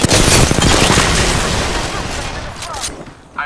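Rapid bursts of automatic gunfire in a battle royale shooter, loud and dense at first, then tapering into scattered shots, with game voice lines and talk over the firing.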